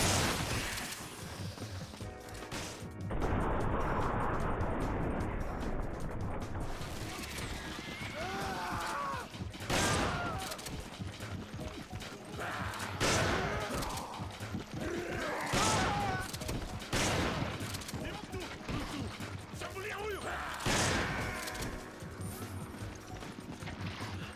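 Shotgun blasts from the M3 in the video game Resident Evil 5, several loud booming shots spaced a few seconds apart over a continuous bed of game ambience and mechanical clatter.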